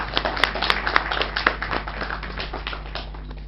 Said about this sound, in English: Can you please welcome her with a round of applause?